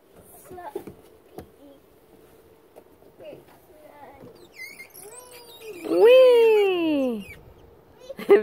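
A playground slide squeaks with a loud, rising-and-falling screech midway through, among children's voices and scattered light bumps.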